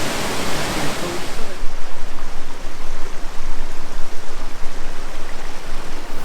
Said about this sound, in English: Columbia Falls, Pine Garnet, Tasmania.